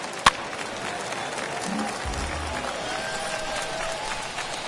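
Home stadium crowd at an opening-day game in MLB The Show 21, a steady ambient murmur and applause from a large audience with one sharp crack near the start, heard throughout at moderate loudness.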